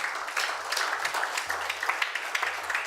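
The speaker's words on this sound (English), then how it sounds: "Can we clap for God?" Audience applause at a convention-style event, steady clapping from many hands spread across the whole stretch, fairly loud and without talk.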